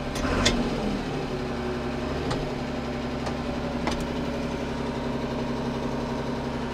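A tractor engine runs at high throughput during silage work on a farm, a loud, steady, close mechanical drone with a few faint knocks and clanks.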